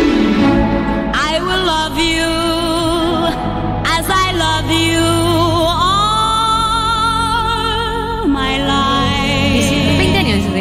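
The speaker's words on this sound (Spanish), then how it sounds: "consigue su primer top 10 con la canción Banana Boat Song, que suena así." A 1957 recording of a song, with a big, vibrato-laden female vocal carrying sustained phrases over a full band accompaniment, playing continuously at steady loudness.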